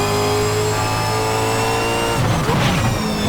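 A Reiza Super V8 race car in a racing game at Bathurst, its engine droning at a steady high pitch before it drops through a downshift, the revs blipping near and loud.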